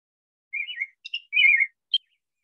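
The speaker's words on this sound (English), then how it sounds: "And here's the rose-breasted grosbeak that we had on the opening screen." A male rose-breasted grosbeak sings in woodland, a rich, throaty run of warbled whistled phrases in three bursts, the longest in the middle and a short sharp note at the end, clear and fairly close with no other sounds.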